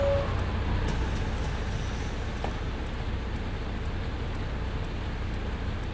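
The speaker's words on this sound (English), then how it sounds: "Does it have to rain again?" Steady rain falls in City Bus Simulator, a continuous broadband hiss that holds evenly throughout, layered over a low rumble of bus or street traffic.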